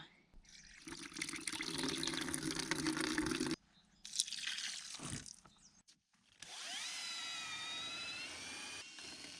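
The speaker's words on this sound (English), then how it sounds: "I can just add a little bit of water into this" Water runs from a tap or hose into a container of lime putty, a loud rushing fill that stops and starts, followed by a steady rising pour.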